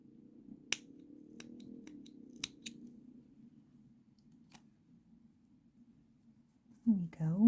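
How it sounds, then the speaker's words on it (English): Scissors snip through yarn after a crocheted piece has been sewn in, a few short sharp clicks early on and a quick louder snipping near the end, with faint speech in the background. "cut your yarn"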